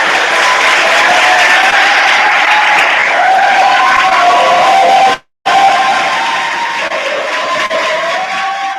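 A large crowd applauds and cheers at a student leader initiation ceremony, with loud, continuous clapping and some shouts. It cuts out briefly and then resumes just as strongly.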